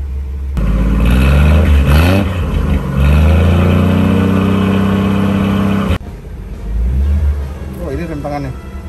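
A 1957 Chevrolet Bel Air V8 cranks and catches with a sudden roar, then revs up and down in loud, deep surges, drops briefly, and rises again, close by with a voice talking over it.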